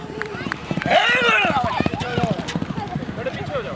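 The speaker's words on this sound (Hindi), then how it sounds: "घोड़ा मेरा सुल्तान।" A horse gallops at speed during a tent pegging run at a riding gala, rapid hoofbeats drumming under loud, excited commentary and crowd noise.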